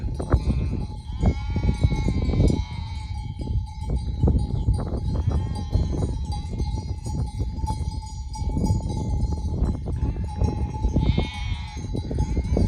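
A flock of breeding sheep bleats over and over, several animals calling in overlapping bursts, some near and some farther off. A faint bell-like clank and steady background noise run underneath, with no talking.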